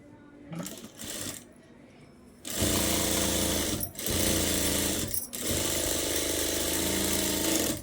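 A sewing machine stitches pieces of fabric together during a beginner tailoring lesson, running in steady rapid bursts with brief pauses between runs, a few handling clicks before the motor starts.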